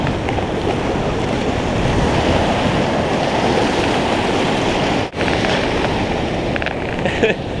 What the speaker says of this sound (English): let's see what the waves are like